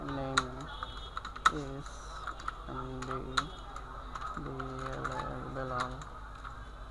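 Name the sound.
typing a name on a computer keyboard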